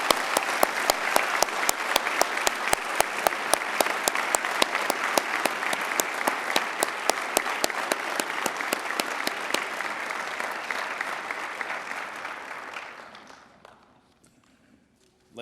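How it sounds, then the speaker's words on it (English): Audience applause at a police academy graduation ceremony honoring a high school choir: steady, dense clapping from a large crowd, sustained for about thirteen seconds before tapering off into quiet. "Can I have everybody give the Warwick High School Choir a round of applause?"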